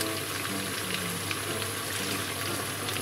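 Mirin and soy sauce sauce with Japanese dashi simmering in a pan for Japanese-style pasta, a steady close bubbling sizzle with no talking.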